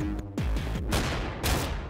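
A blast goes off in the horror game Paperhead, a burst of booming impacts and rumbling debris within two seconds, loud and close, with no talking over it.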